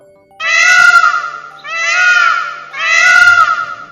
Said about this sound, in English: It's a peacock.